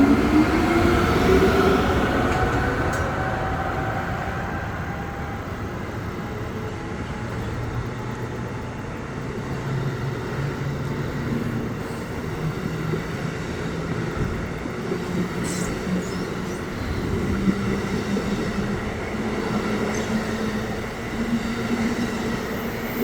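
An Amtrak Northeast Regional train pulling out of BWI station, rolling wagons rumbling steadily with a faint rising tone early on and occasional wheel squeal, heard from trackside with no talking.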